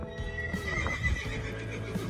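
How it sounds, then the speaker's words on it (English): Horses at a state park campground in Louisiana neigh and whinny close by, mixed with a few hoof clops and snorts over a couple of seconds. "They're sweet horses."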